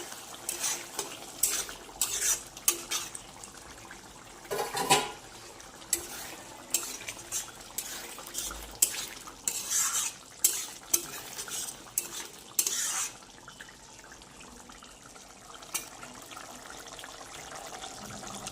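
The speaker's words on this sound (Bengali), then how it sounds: "আমি ধনেপাতা দিয়ে দিচ্ছি একটু ছড়িয়ে, আবার একটু নেড়ে" A spoon repeatedly stirs prawn malai curry in a pan after coriander leaves are scattered in, with intermittent scraping and clinking strokes over a soft simmering bubble, no talking.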